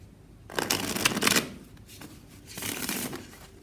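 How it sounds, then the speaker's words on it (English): A Book of Thoth Etteilla tarot deck with Lo Scarabeo card stock is riffle shuffled, two crisp bursts of fluttering card slaps close up, the first longer and louder, separated by a short pause. "So it riffles well"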